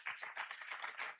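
Brief burst of audience clapping at a community pharmacy continuing-education conference in Lagos, a dense patter of hands from a crowd, moderately close and lasting barely over a second.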